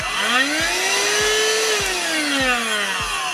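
An EASINE H55 cordless vacuum cleaner runs close by after being switched on by its trigger. It gives a loud, steady motor whine that rises slightly in pitch, then dips, with regular soft clicks throughout.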